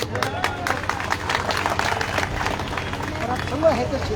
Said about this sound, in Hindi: तो बहुत बहुत ताली बजनी चाहिए।